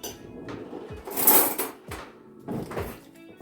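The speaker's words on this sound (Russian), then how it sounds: "Сейчас все хорошо смешаем, а потом уже будем добавлять муку. Сейчас я вилочкой." Butter being mixed in a bowl with a fork, a few quick scraping and clinking strokes with short bursts of motion, close and fairly quiet, with no talking.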